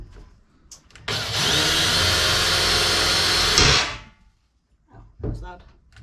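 A power drill bores into a boat's water tank in one loud, continuous burst of about two and a half seconds, then winds down, with brief talk and handling noises before and after.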